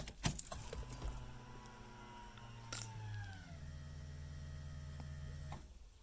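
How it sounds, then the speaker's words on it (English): A car's fuel pump primes with a steady electric hum that holds for several seconds, dips slightly in pitch partway through, then cuts off. Quiet clicks and jingling sit around it, and there is no talk. "There's the fuel pump prime."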